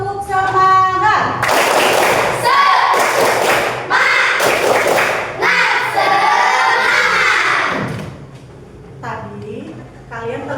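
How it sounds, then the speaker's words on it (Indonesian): A classroom of children performs a tepuk semangat spirit clap, with bursts of rhythmic clapping, thumps and shouted chant mixed with loud voices, fairly close and energetic. "Beri tepuk semangat"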